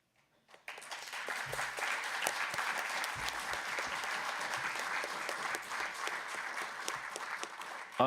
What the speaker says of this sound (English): the applause is that you have got through the situation